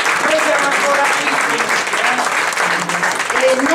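Sustained audience applause fills a culture-festival gathering of school poetry in Viterbo, loud and steady throughout, with faint voices mixed in beneath the clapping.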